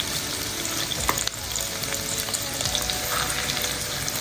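Crucian carp fry in a small pot, making a loud, dense crackling sizzle that runs the whole way through, with one brief clatter near the middle.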